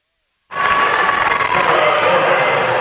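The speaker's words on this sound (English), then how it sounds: "time for the Sports Arena crowd to get into a little bit and make some noise." A basketball arena crowd at a women's college game bursts into loud cheering and shouting after a moment of silence, a sustained roar of voices with whoops and yells.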